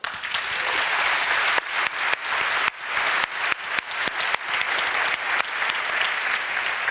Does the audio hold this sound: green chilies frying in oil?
no